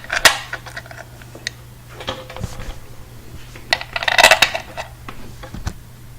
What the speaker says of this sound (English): put all 5 of your bolts back in